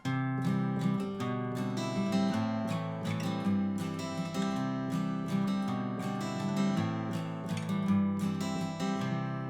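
Acoustic guitar strums full chords of a song in a steady, lively rhythm, close and bright, with no one speaking.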